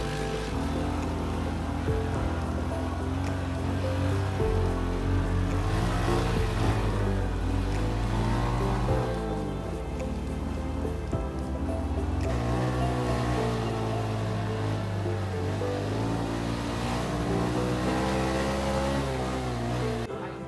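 A motorcycle taxi carrying two riders climbs uphill from the Kledung basecamp on Mount Sindoro. Its engine drones loudly and steadily for a long stretch, with the pitch rising and falling as the throttle changes.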